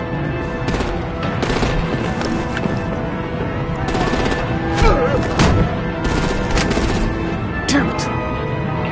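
Bursts of rapid machine-gun fire and scattered gunshots in the Batman: The Enemy Within video game, loud and close, with voices speaking amid the shooting.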